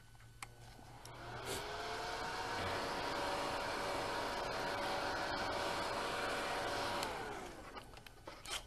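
A hair dryer runs steadily for about six seconds while drying a watercolor painting, a close whirring hum that starts and stops with faint handling noises before and after.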